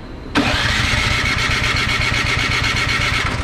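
A Craftsman snow blower engine cranks steadily without catching, its rapid even chugging rhythm running loud and close for about three seconds after a brief quiet start.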